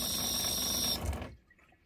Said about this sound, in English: We've got a tap here.